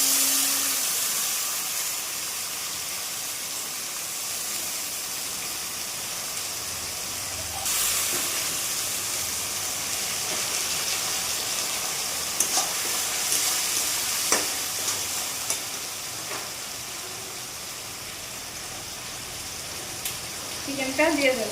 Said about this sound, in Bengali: পেঁয়াজগুলি ভাজা হয়ে গেছে, এবার পেঁয়াজের পেস্টটা দিয়ে দেবো।